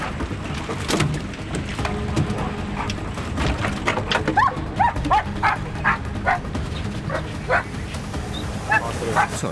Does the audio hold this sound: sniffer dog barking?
yes